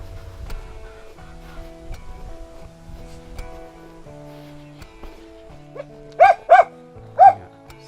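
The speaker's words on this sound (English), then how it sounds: "Hello, doggy." A dog at a campsite in Tanay lets out three loud, close barks in quick succession near the end, after a stretch of faint, low background sounds.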